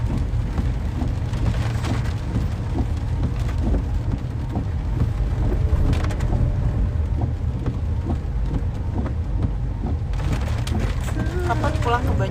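Steady rain falls heavily and close throughout, a dense continuous hiss with occasional louder patters, while people talk faintly under it.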